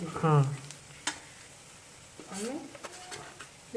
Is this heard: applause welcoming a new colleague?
no